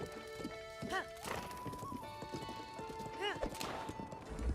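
Horse hooves clip-clop in the video game Breath of the Wild as the horse is ridden uphill, a steady rhythmic trot with a couple of whinnies and game music tones in the background.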